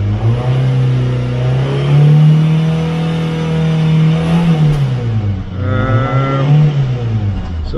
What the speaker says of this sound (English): I just want to let that engine warm up a little bit